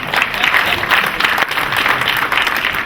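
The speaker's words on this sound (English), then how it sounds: "So let's give him a big round of applause." An audience at a storage technology talk gives a dense, loud round of applause that carries on steadily through the whole stretch, with no talking over it.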